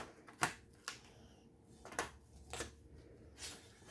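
Sheet metal for a square-to-duct transition is bent by hand, giving a handful of sharp, separate metallic clicks and snaps spaced irregularly, close by and fairly quiet, with no talking.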